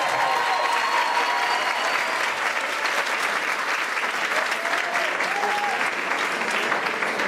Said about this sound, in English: a hearty, warm applause is welcome, especially right now for our third grade chorus